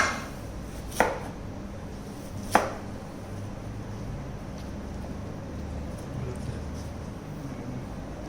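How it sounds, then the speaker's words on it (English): A knife cuts onions into julienne strips on a board with two distinct, sharp chops a second and a half apart, then a faint steady background hum without talk. "We're gonna do some julienne of onions."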